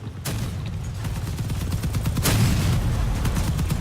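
Weapon fire from vehicles in the combat game Crossout, a dull steady barrage of booming shots under engine rumble, fairly loud and continuous.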